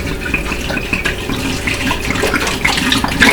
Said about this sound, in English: I need to empty the water out of this one.